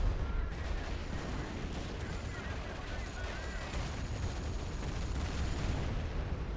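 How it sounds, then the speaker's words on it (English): Continuous rumbling artillery bombardment of an enemy headquarters in a World War II strategy game, dense overlapping booms and gunfire-like cracks holding steady and loud throughout with no pauses. "Bomb their headquarters again."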